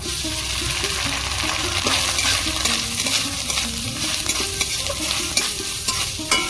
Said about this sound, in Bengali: নারকেলগুলো ভালো করে লাল লাল করে ভেজে নিতে হবে